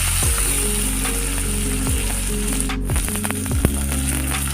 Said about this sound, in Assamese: বিলাহী দুটা দি খুব ভালদৰে লৰাই দিছোঁ।